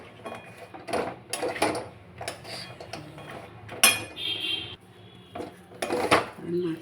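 A spoon scraping and clinking against a metal pan while curry is stirred, in repeated irregular strokes with sharp clanks, close and fairly loud, with no talk.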